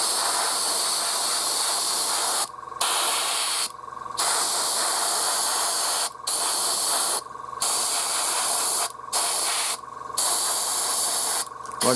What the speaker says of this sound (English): airbrush purely for speed